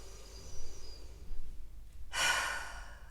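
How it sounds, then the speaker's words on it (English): A deep yoga breath: a quiet, barely audible nasal inhale, then a sudden loud, airy exhale through the mouth near the end, close to the ear. "We'll do 3 breaths through the nose, exhaling through the mouth."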